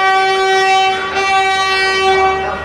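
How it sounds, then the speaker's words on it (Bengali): A Vande Bharat express train sounds its horn in one loud, sustained, steady harmonic blast over a low background rumble, with no talking. "বন্দে ভারত পিছনে হর্ন দিচ্ছে।"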